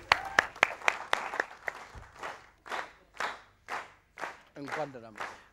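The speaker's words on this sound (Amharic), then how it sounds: "ሞቅ ያለ ጭብጨባ" Brief claps from a television studio audience after a singer's performance, a few sharp hand claps at the start before speech-like sounds take over, moderately close.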